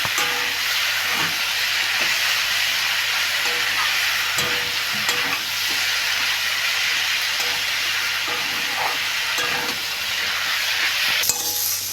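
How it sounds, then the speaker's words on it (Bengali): Ground cumin, chilli powder, onion and ginger paste with a green chilli fry in a pan, giving a continuous bright sizzle with a few scraping stirs close by. "মশলা কষানো হয়ে গেছে।"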